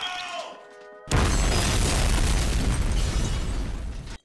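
A cartoon self-destructing coin slot blows up with a sudden loud boom that swells into a long, roaring, crackling blast after a second of quiet tones, then cuts off abruptly.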